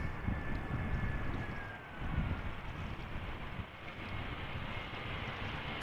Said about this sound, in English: Top Air Portugal, flight 670, A320 arriving from Lisbon.